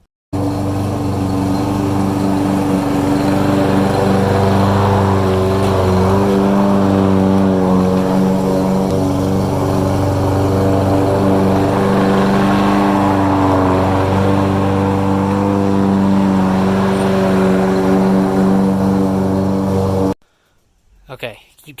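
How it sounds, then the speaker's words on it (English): A lawn mower cutting grass in early spring runs with a steady, loud engine drone for about twenty seconds, then abruptly cuts off, leaving a few faint knocks. "before we go ahead and mow across the lawn"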